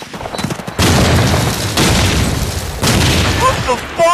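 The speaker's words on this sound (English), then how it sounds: "I got hit with the grenade that landed on the other side of the map" A grenade blows up during an online shooter clan match, a sharp booming blast followed by sustained loud rumble, with a second burst later and a voice briefly at the end.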